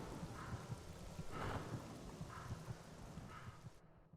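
Steady rain falls in the Witchwood forest of Fable: The Lost Chapters, a continuous hiss with soft low rumbles, ending abruptly.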